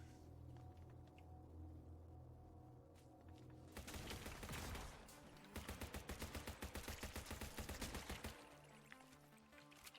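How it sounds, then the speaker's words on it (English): Rapid gunfire from the zombie shooter video game Zombotron, a dense fusillade of loud automatic shots in bursts with a steady rattling rhythm, close and without talk. "Killed him with an ambush shot."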